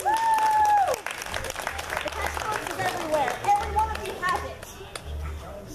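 Applause and cheers from the audience at a comic-con cosplay contest follow a loud whoop at the start, then fade into scattered clapping mixed with crowd chatter and low thumping background music.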